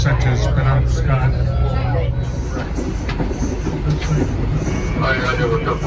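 A Reading and Northern RDC railcar rolls along, a loud, close rumble with rattling wheel noise and brief squeals, and a voice talks over it throughout.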